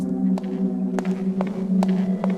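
Hard, clacking footsteps from the video game Thief Gold at an uneven walking pace along a corridor over a steady low hum, fairly loud and close, with no talking.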